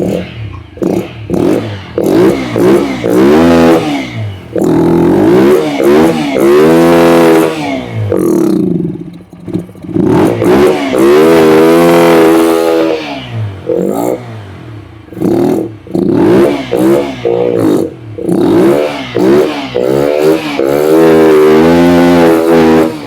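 A TVS Apache RTR 160 4V BS6 motorcycle engine is revved repeatedly with the throttle during a throttle-body cleaning service, loud and close, rising and falling in repeated surges that pause briefly between them.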